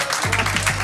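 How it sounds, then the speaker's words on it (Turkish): A quiz-night audience claps steadily in a dense, continuous burst of applause that fills the room, with a low hum running underneath. "Ona ayrıca bir alkışlayalım."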